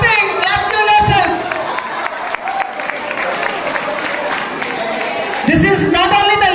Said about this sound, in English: A big round of applause for each and every one of you. Everyone should be clapping.